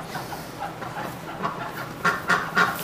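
Ducks quack and cluck in a short series of calls nearby, rising to a few louder honks at the end over a background of murmuring fowl.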